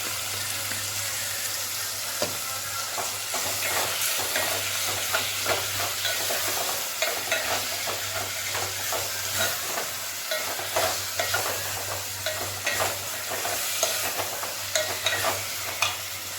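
Ginger garlic paste stirring and sizzling in a hot pan, a steady close frying hiss broken by scraping spoon strokes, with faint running water behind and no talk.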